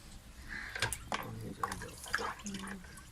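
Water poured into a pot with a kilo of sugar to make syrup for village-style besan laddu, splashing and trickling in short bursts close by, with faint talk in the background.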